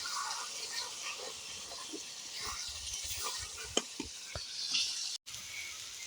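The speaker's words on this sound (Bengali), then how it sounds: "লাল লাল করে ভাজা হয়ে গেছে" Dried surma fish (shutki) bhorta fries in a pan until it turns red, giving a steady close sizzle with occasional sharp stirring clicks and scrapes, and no talking.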